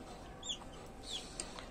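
Farm chickens cluck softly at a distance over a quiet background hum, a few brief calls in a short stretch.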